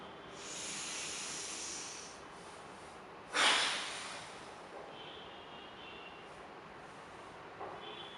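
A deep breath drawn for a yoga stomach lock: a long, close, airy inhale followed by a sharp forceful nasal exhale, then quiet held breath with faint small breathy sounds, no talking.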